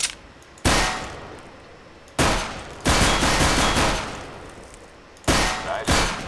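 Gunfire at practice targets in Counter-Strike: Global Offensive, loud, close sustained bursts of automatic fire separated by short pauses, with no talk.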